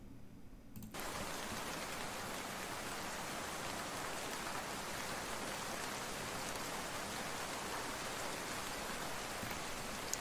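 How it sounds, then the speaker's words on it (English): Ambient rain from a Roblox game pours as a steady, even hiss of falling water. After a brief quieter opening it settles into a continuous, unchanging wash, with no voices. "ambient rain"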